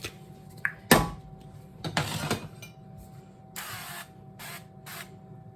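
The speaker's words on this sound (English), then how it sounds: "get my dish sprayed with a non-stick spray." Short hissing bursts of a non-stick aerosol spray onto a baking dish, a few quick puffs and then several spaced sprays, close by in a quiet room with faint mechanical clicks.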